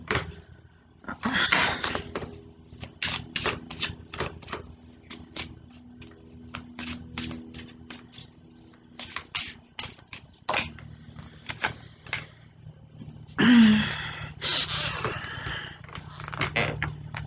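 Repeated crisp riffling and slapping of a new, stiff tarot deck being shuffled close up, in quick bursts with short pauses between.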